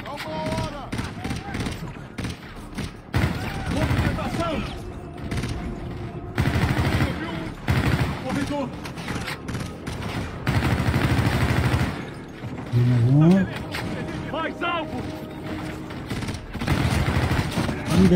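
In a war video game, weapons fire at a fleet in loud bursts of automatic gunfire and heavy booms that come and go, mixed with game voices and mechanical noise.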